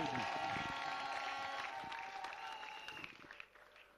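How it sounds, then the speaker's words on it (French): A church audience applauds warmly for a former prefect of discipline at a reverend's 71st anniversary celebration, steady clapping that gradually fades toward the end. "Acclamez très fort pour lui"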